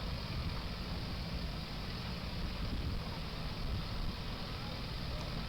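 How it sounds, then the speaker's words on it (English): A 1980 Mack Superliner truck pulling a tractor rolls past in a Fourth of July parade in Akron, a steady low engine rumble with broadband outdoor noise that holds evenly throughout. "1980 Max Superliner and tractor."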